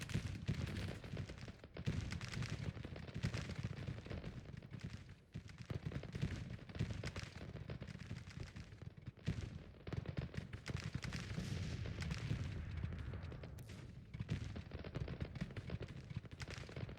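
American Civil War army gunfire in Grand Tactician: steady rolling volleys of musketry and cannon, distant and fairly quiet, a continuous crackling battle din with no speech.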